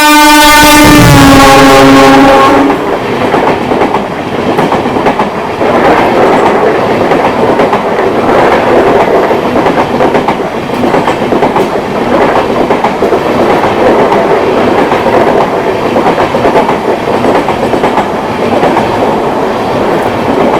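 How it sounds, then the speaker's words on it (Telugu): A passenger train overtakes at Kotabommali station on the Visakhapatnam to Puri line, opening with a loud horn blast, then a steady, loud roar and clatter of wagons rushing close past for the rest of the clip. "సో వైజాగ్ దాటాక మన ఫస్ట్ ఓవర్టేక్ అయితే పడ్డదండి."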